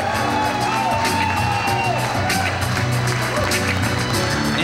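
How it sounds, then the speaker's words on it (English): Wedding reception guests cheer, whoop and applaud for the bride's parents, a loud, steady crowd roar with shouts rising over continuous clapping throughout. "a big round of applause for the parents of the bride, Harry and Phyllis Lair"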